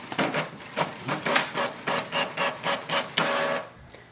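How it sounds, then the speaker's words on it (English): A Canon MAXIFY GX4040 inkjet printer printing a test page: a run of about ten rhythmic mechanical whirring strokes as the print head sweeps back and forth, close and alone, ending with a short paper-feed sound. "Let's do a print test page."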